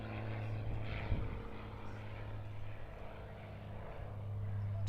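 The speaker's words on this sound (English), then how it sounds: "A Cessna 402." A Cessna 402 twin-engine plane arriving at Perth Airport after a flight from Jandakot, a steady distant propeller drone with faint background murmur.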